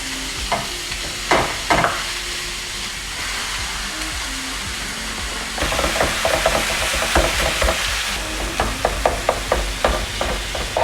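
Beef tipped into a pan with a little fat, giving a loud continuous close sizzle, broken early by a few sharp knocks and later by a run of quick scraping and tapping strokes as it is moved around.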